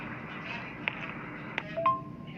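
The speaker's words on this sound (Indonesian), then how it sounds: "Coba telepon dulu Agustinus." A telephone dials during a night patrol, several short beeping key tones followed by a brief ringing tone, faint and close over background noise and voices.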